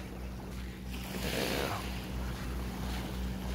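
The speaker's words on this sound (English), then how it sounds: "right now I'm just walking alongside this calm, inviting waves towards the edge of" Gentle surf washing onto a beach on Belitong, with a soft swell of breaking water at mid-clip over steady wind noise and a low boat-like hum; no talk.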